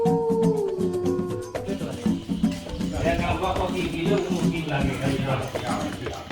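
A jackal or wolf at the Kevadia jungle safari gives a single drawn-out howl that falls in pitch, then fades as people talk over the engine of a safari vehicle.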